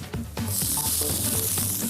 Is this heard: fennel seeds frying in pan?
yes